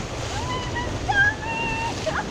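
Waves surging and rushing at a remote bush river crossing, a constant loud turbulent wash of water close by with wind buffeting the microphone and faint higher tones over the noise.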